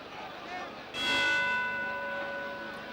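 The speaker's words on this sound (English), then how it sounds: "there's the bell to end the 11th round" A boxing ring bell rings out to end the 11th round of a 1959 British and Commonwealth heavyweight bout, Henry Cooper versus Joe Erskine; one loud struck clang with a long ringing tail over steady crowd noise.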